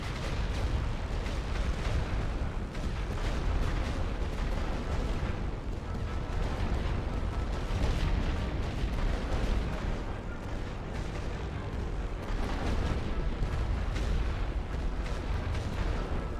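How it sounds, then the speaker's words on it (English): Continuous artillery barrage in a Great War video game, dense overlapping booms and blasts rumbling without pause, loud and heavy throughout, no voices. "Load for area barrage. Fire on that position."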